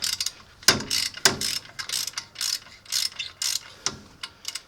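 A ratchet wrench works two 19 mm nuts at the back of a CV axle on a 1989 Nissan D21 Hardbody truck. Rapid clicking runs repeat in several close, loud strokes with short pauses between them.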